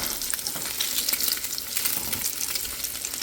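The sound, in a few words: breakfast frying in a pan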